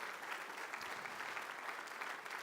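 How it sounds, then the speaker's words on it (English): Polite applause at a university convocation for a long-serving history faculty member, a steady, even wash of clapping from a large audience, fairly faint and distant. "That deserves applause in terms of her support."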